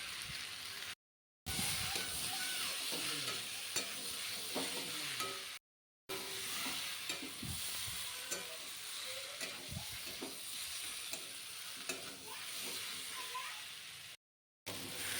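Prawns fry in a pan for a Bengali jackfruit-and-prawn dish, with a continuous close sizzle, stirring scrapes and a few brief dropouts in the sound.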